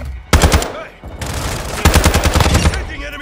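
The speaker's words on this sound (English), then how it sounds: "Enemy fire!" Rapid automatic gunfire rattles loudly in Call of Duty Modern Warfare II, two dense bursts of machine-gun fire with a brief lull between them, close and punchy over game ambience.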